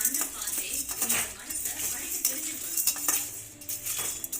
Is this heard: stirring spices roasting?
yes